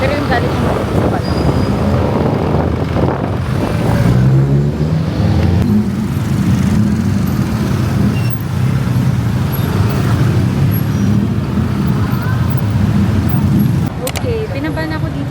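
Gridlocked street traffic beside a sidewalk in Bangkok near Pratunam Market, a continuous close roar of idling and creeping vehicles with wind buffeting the microphone and occasional voices mixed in.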